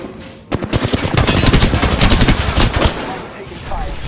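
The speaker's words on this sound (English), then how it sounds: "Taking fire. These are shooting at me." Rapid bursts of automatic gunfire from the video game Apex Legends, loud and dense for about two seconds before trailing off into quieter game ambience.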